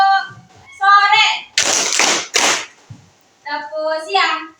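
Children in a classroom ice-breaking clapping game chant together between bursts of clapping, with two sharp clusters of claps in the middle set between the sung voices.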